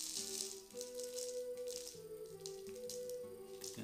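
Citrine stones drop into a bison rattle, making a quiet, close run of clicking and rattling taps with a few brighter knocks.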